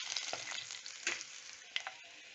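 Crushed garlic and a pinch of asafoetida sizzle and sauté in a pan for rasam, a steady crackling fry with a few sharper spatula scrapes, close and moderately quiet, no talking.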